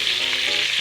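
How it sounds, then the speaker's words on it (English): Shrimp sizzle steadily as they brown in a hot pan, a loud, continuous frying hiss with no voices. "I'm just going to brown these real quick"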